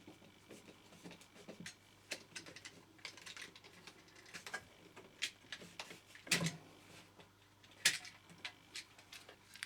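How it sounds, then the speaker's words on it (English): A screwdriver loosens the terminal screws on an electrical socket, giving quiet, close, irregular clicks and small metallic taps with a couple of sharper squeaks. "I'm now going to undo each of the terminals."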